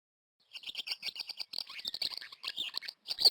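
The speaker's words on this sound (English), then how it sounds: "The mother bird is feeding her young in the nest high above you." Several small birds chirp and tweet in quick bursts through a meadow scene in the King's Quest adventure game, starting after a brief silence, fairly close and clear, with no talking.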